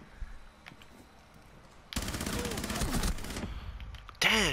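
Sustained burst of gunfire in Rainbow Six Siege, loud and dense for about two seconds, followed by a sharp resurgence at the end, with quieter game ambience before.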